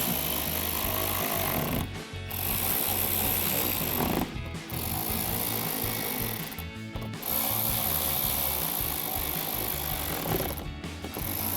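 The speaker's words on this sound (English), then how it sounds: "grab a 7mm socket to tighten all these down" A ratchet with a 7mm socket tightens tail light nuts on a Mustang, a loud continuous clicking that stops briefly three times as the handle resets.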